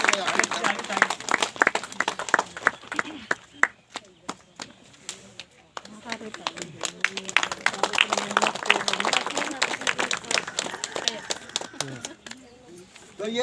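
Sharp, irregular handclaps from people at a village akhra dance gathering, scattered and clustered rather than in steady rhythm, with voices talking over them throughout.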